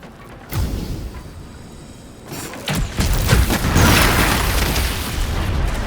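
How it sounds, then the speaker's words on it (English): Explosions tear through a fireworks shop in a video game, with deep booms and crackling bursts going off one after another. The blasts build from a single early thump into a dense, continuous barrage that holds loud to the end. "wow, explosions just keep on coming"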